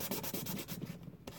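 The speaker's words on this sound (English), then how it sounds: "You just keep sanding on that face there." An old bank card being rubbed on 400 grit sandpaper to shape a guitar pick, giving steady rhythmic scraping strokes close up, each rasping pass repeating quickly.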